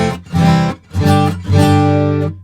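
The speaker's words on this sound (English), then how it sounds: "I'm just gonna track some acoustic." Acoustic guitar played alone, recorded through a Shure vocal condenser mic for a simulated 12-string part: three strummed or picked phrases ring out loud and close, with brief gaps between them.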